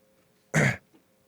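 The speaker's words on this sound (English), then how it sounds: "made me cough." A single short cough, sharp and close, followed by a faint trailing breath in an otherwise quiet room.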